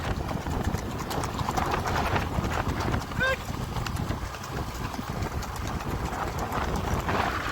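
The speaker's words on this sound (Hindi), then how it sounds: "एक तरफ कासम भाई लौटा रहे, एक तरफ दोदा भाई, दोनों के घोड़े बहुत ही अच्छे, आप देख सकते हो" Steady clip-clop of two horses' hooves on a hard surface at a revaal gait horse race in Kutch, under continuous chatter and background noise, with a brief bird call partway through.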